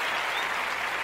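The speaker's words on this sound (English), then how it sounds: "let's give them a round of applause" Audience applause at a public gathering honoring essential workers and medical staff: dense, steady clapping from a crowd, loud and sustained throughout without voices.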